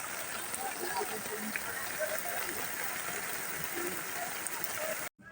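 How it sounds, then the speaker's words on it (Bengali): Steady rain falls at an outdoor pigeon market in Fatullah, a soft, even hiss of drops on surfaces throughout, with faint voices scattered beneath. "দেখুন মাসাল্লাহ খুব সুন্দর বৃষ্টি হচ্ছে"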